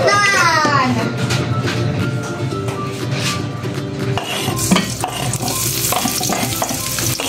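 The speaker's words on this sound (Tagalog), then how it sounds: "Magigisa lang tayo ng toge guys." Bean sprouts and onions sizzle and scrape as they are stirred and sautéed in a pan for lumpiang toge, a steady close frying hiss throughout with voices in the background.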